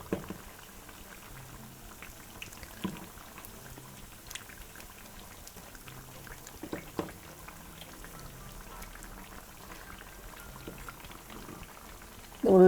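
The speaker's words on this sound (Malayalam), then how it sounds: "ചെറിയ തീയിൽ എണ്ണ ഇങ്ങനെ തിളച്ച് നന്നായിട്ട് ക്രിസ്പി ആവണം." Potato tikki fry slowly in oil over a low flame, giving a soft, steady bubbling crackle throughout with no talking, and a louder burst of sizzle right at the end.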